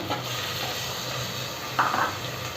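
Tomatoes and spinach with coriander frying in oil in a pan while making masala pappu: a steady, close hiss of sizzling, with a brief clatter of stirring near the end.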